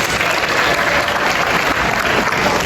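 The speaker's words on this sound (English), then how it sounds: "Give me a round of applause, yes?" An audience at an 8th grade celebration ceremony claps loudly and continuously, a dense close wash of applause with no talking over it.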